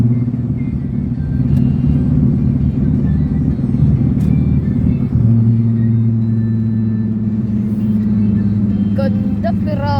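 A 2019 Ferrari SF90 Stradale on the SLEX highway, heard from a nearby pacing car as a continuous low engine and road rumble that shifts pitch halfway, with people chattering over it.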